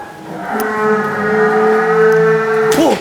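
A cow on a premium cattle farm lets out one long, loud, steady moo lasting nearly three seconds, close by and alone before a brief rising end.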